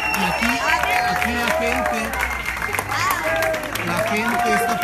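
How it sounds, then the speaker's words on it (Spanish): A street crowd claps and cheers as a Morena party candidate arrives beside a truck loaded with food supplies in Mexico City. The sound is a continuous, busy mix of applause, voices and babble, with talk on top. "la gente está aplaudiendo"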